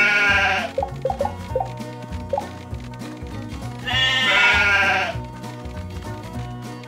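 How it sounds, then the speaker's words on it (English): Cartoon sheep bleating in a children's animated show, two loud, wavering bleats about three seconds apart over a bouncy background music track. "All right, you hungry sheep, follow me!"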